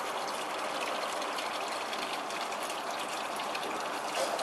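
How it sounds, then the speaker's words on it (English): Water drains steadily from a Boyu SCL-2500 pond skimmer, a continuous close gushing rush that holds at an even level with no talking. "You will notice that the water quickly drains"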